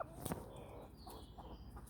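Chickens on a backyard vegetable plot give soft, scattered clucks over a steady outdoor background, with one louder cluck near the start.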